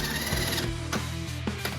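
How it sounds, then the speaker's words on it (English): Metallic clicks and knocks from a wrench on the rear shock absorber bolts of a Ford Ka, its rear frame propped on a jack; brief, close, irregular mechanical taps over a low steady hum. "Next we'll remove the bolts from the shock absorber"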